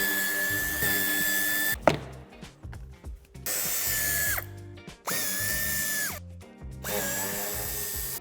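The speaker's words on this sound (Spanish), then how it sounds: "Quitaremos los tornillos de sujeción de las esquinas del paragolpes." A power tool whines in three long runs with short pauses between them, backing out the corner screws that hold the bumper on a 2018 Audi Q8. The sound is close and loud, with no talking.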